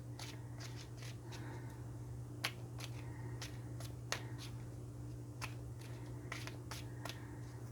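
Tarot cards are shuffled in quick, soft riffles and sharp flicks over a steady low background hum, fairly faint and with no talking.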